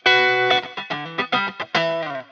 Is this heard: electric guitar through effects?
yes